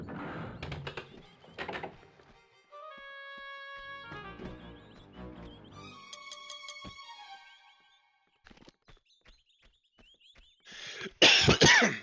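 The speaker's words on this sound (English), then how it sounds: "I apologize for the cough just then." Coughing in a Tomb Raider 2 Venice level, two rough bursts near the start and a loud harsh burst near the end, mixed with game sounds, chimes and clicks in between.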